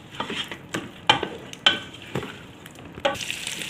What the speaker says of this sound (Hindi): उसके बाद हम डाल देंगे इसमें मटन, और इसको मटन और प्याज को अच्छी तरह से आपने भूनना है